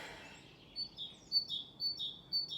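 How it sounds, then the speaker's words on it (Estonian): Spring birdsong, a series of faint, thin chirps and tweets repeating at short intervals against quiet outdoor background hiss. "praegu linnud laulavad ja on kevad."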